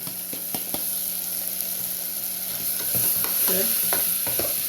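A spoon stirs washed rice and lentils in a pot for masala khichdi, with scraping and knocking strokes over a soft sizzle, close and steady, no talking.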